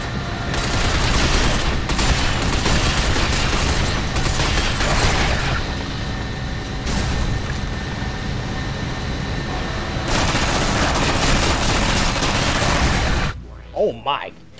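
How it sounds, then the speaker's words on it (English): Rapid, sustained SMG fire rips through a Binary Domain firefight, bursts layered with explosions and impacts nearly nonstop, dropping out briefly before a final stretch and ending in a few scattered pops; a voice talks over the shooting. "this fucking SMG ripping through these motherfuckers"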